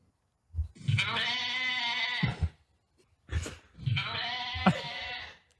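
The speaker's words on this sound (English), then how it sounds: "It's actually a goat." A goat bleats twice, each a long, loud, wavering cry heard close and alone against silence, the two calls separated by a short pause.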